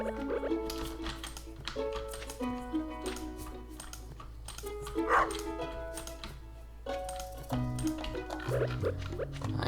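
Short, tonal dog barks from Stardew Valley recur under game-style background music, loud and close, arriving in scattered bursts.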